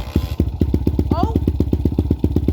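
Honda CRF100 motorcycle engine cold starting, catching and running in a rapid, evenly pulsing near putter, with a brief voice exclaiming over it.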